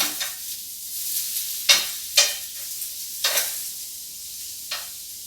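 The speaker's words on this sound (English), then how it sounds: "Let's turn our fish. Our pineapple's almost ready. Our onions are getting nice color on them." Fish, pineapple and onions sizzling on a hot grill, a steady close frying hiss broken by several sharp crackling bursts as food is turned; no voices.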